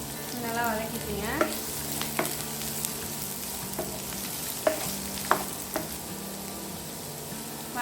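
Onions and black peppercorns sautéing in hot oil for onion thuvayal, a steady crackling sizzle with repeated sharp clinks and scrapes of a spoon against the pan.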